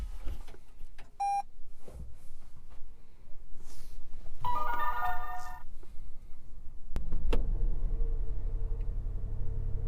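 A Toyota Yaris Hybrid powers up with a series of electronic beeps and chimes, followed several seconds later by a faint, low hum that continues to the end.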